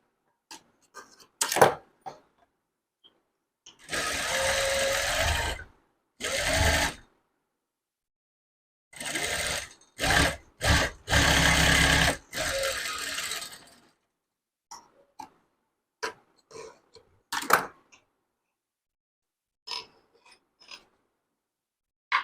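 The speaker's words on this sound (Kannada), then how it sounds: "ಇನ್ನೊಂದು ಡಬಲ್ ಸ್ಟಿಚ್ ಹಾಕೊಳ್ಳಿ" A sewing machine double-stitches a front-open blouse in short bursts of rapid whirring, with several runs separated by silence and scattered clicks and handling sounds in between.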